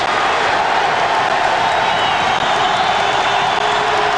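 A packed arena crowd at a 1986 Villanova–Maryland college basketball game roars and cheers in a loud, continuous wall of noise with no break.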